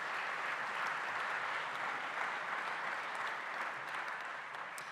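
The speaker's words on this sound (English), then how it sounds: "A round of applause for our bronze sponsors, please." Steady applause from an event audience greeting bronze sponsors, a dense continuous wash of many hands clapping at moderate distance for the full stretch with no talk.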